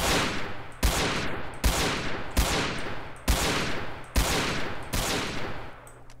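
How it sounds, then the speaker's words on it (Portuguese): Heavy Desert Eagle pistol shots in a video game fire one after another at a steady pace, about seven loud booming reports with short echoing tails. "eu vou fazer aqui com a Desert Eagle, vou dar uns tirinhos aí pra vocês poderem ouvir o som dela"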